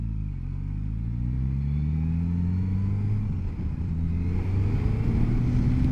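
A Suzuki GSX-S1000GX motorcycle engine hums steadily while riding, its pitch sliding gradually as speed changes, then dropping and roughening as the bike slows under braking, close and fairly loud.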